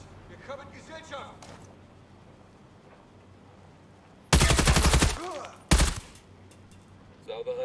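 Two loud bursts of rapid video game gunfire break through a quiet background, the first lasting almost a second, the second short, with faint voices around them.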